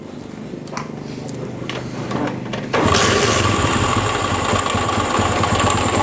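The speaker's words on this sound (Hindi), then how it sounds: "तो स्टार्ट करें भाई बाइक को।" A Honda CD70 motorcycle engine is cranked and catches near the end of the third second, then runs at a loud, steady idle with a rapid, buzzing putter.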